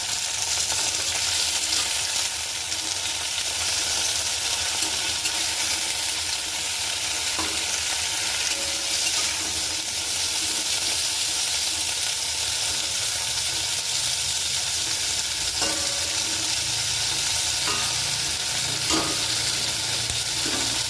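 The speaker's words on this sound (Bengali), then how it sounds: "এর মধ্যে দেবো একটু লবণ, দিয়ে দিচ্ছি একটু লবণ দিয়ে ভালো করে ভাজবো।" Okra frying with salt in a pan gives a steady, loud close sizzle throughout, with occasional stirring clinks and scrapes and no talking.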